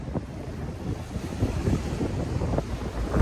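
Steady wind buffeting the microphone at Taughannock Falls on a cold day, a continuous low rumble with gusty swells and a couple of sharper blasts, no voices.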